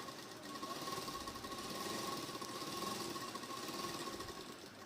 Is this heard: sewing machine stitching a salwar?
yes